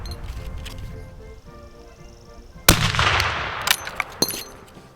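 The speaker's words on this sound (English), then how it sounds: "These reduced carbine loads actually made shooting the rifle quite comfortable." An ICI Martini-Henry cavalry carbine fires a reduced load: one sharp, loud report with a lingering rumbling tail, followed by a couple of smaller bangs over low background noise.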